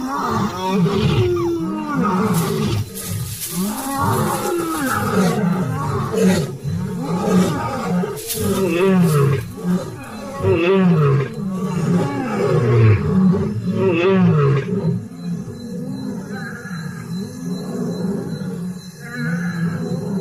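Several lions roar and grunt together in a loud, overlapping chorus, deep rumbling calls rising and falling continuously.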